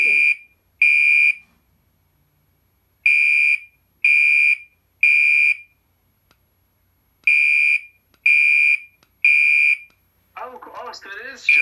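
A fire alarm being tested during an unboxing gives repeated loud electronic beeping bursts in groups with pauses between, ending in a warbling, faltering dying sound as people start talking.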